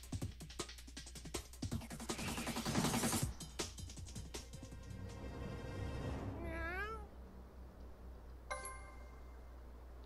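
Cat meows from the video game South Park: The Fractured But Whole, voiced by people imitating cats. Several rising meows sound out in a row mid-clip, with a brief chime afterward, all over busy game music and effects.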